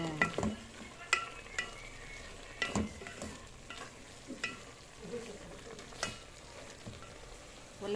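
Cabbage and kangkong are stir-fried in a pan, making a soft, faint sizzle with scattered clicks and scrapes of the utensil as the vegetables are tossed, and no one speaks.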